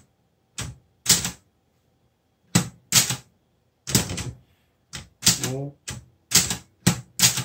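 Keys clack in sharp, separate bursts on a Clover Top Star 10S two-set Korean Hangul typewriter, close and crisp with pauses between strokes, plus a brief spoken syllable.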